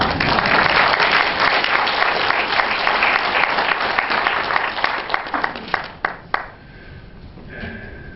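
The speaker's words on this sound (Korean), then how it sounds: "지금 같은 때는 박수를 쳐도 괜찮습니다" Loud crowd applause at a public talk holds steady for several seconds, then thins into a few scattered, close claps before dying away into a quieter room.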